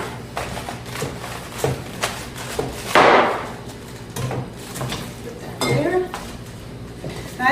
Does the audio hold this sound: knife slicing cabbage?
yes